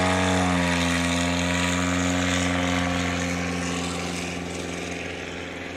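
A STOL propeller aircraft takes off at a Rocky Mountain STOL competition in Pinedale, Wyoming, its engine a loud steady droning hum that rises in pitch and then slowly fades as the plane pulls away.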